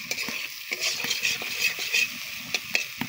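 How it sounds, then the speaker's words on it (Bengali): Potatoes frying in a pan while being stirred, with a spatula scraping and clinking in quick, uneven strokes over a steady close sizzle, and no talking. "আলুগুলো দেওয়ার পরে এবার ভালো করে নাড়বো।"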